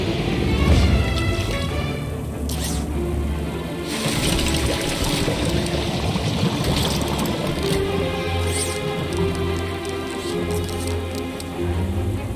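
Mechanical refilling of a water tank on a machine in the video game Beyond a Steel Sky: steady whirring, ratcheting and clicking gear-like mechanism noise running continuously, fairly loud, with layered hum and occasional brighter clanks.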